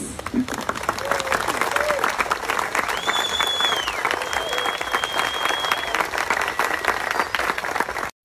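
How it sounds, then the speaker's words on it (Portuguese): Wedding guests applaud in a continuous, lively round of clapping, with crowd murmur and a few whistle-like tones above it, running loud and steady until it cuts off abruptly. "Eu quero palmas."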